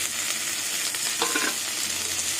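Cumin, ginger, coriander, chilli and turmeric fry in oil in a pan, giving a steady close sizzle with a brief scrape of stirring partway through.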